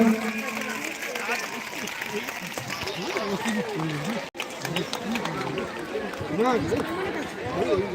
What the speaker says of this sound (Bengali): সকলেই করতালি দেবো এবার সকলেই করতালি দেব